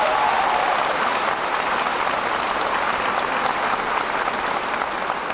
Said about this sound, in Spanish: Vamos a darle un fuerte aplauso a ellos